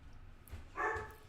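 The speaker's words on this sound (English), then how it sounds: "Pardon my dog." A dog barks once or twice in the background, a short, moderately loud burst that stands out briefly against a quiet room.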